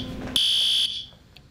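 A fire alarm gives one short, piercing electronic blast that cuts off abruptly and leaves a quieter background behind it.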